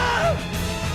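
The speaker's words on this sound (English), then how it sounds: "Don't scream in my face." A person yells loudly during a You Don't Know Jack 2015 game session, a brief, strained shout rising in pitch over background noise and game sound.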